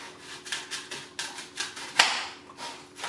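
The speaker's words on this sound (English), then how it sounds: "put your knife between, cut down" A knife chops an apple on a cutting board in a quick, even series of close knocks, roughly three per second, with one sharper strike near the middle.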